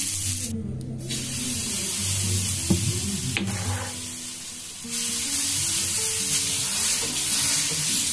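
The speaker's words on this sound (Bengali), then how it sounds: "এরপর আমি একটুখানি জল ছিটিয়ে দিলাম" Water splashed onto a hot pan for making atlu bursts into a loud, steady sizzle and hiss that carries on for several seconds with faint clinks, no voices.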